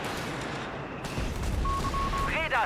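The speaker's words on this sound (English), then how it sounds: "more artillery, more death" Artillery fire and explosions roll through a Company of Heroes 3 match, a dense, continuous battlefield rumble of booms and gunfire with a thin tone near the end, while a commentator talks over it.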